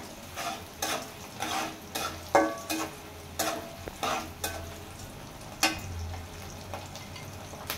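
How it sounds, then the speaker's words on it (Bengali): Onions and dried red chillies fry in a pan for a dal chorchori, making a constant sizzle under repeated scraping and stirring strokes from a spatula, close and alone. "আমার পেঁয়াজ ভাজা হয়ে গেছে"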